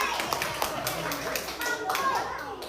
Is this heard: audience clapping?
yes